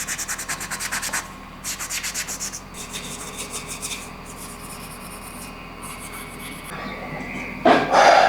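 Rhythmic abrasive rubbing strokes clean the sump mating face of a turbocharged GSXR engine before an alloy sump is fitted, close and scratchy, slowing into quieter scraping before a short louder burst at the end.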